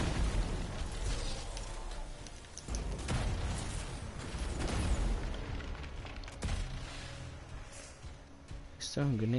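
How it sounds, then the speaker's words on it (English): Grenade explosions in the video game Anthem, a series of loud booming blasts and bursts over dense combat noise, with a voice talking throughout. "He's throwing grenades at me."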